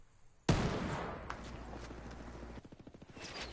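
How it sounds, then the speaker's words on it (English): Video game gunfire in Ghost War, a sudden loud burst after a quiet start, then sustained firing that breaks into a rapid rhythmic string of shots near the end. "Under heavy fire!"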